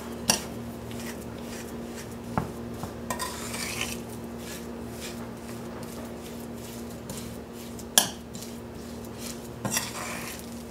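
A utensil stirs baking soda into a thick batter in a bowl, giving soft scraping and occasional sharp clinks against the bowl, moderately close with no talking.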